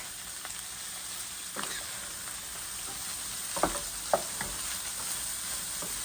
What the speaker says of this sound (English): we're going to add in 2 cloves of garlic. I am out of garlic, so we're using jarlic. And we're going to give this a really good stir.